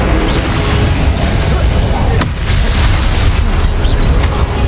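Incendio fire spells blasting in Hogwarts Legacy during a boss battle: a dense, loud, continuous roar of booming bursts that barely lets up across the whole stretch, with a brief dip partway through.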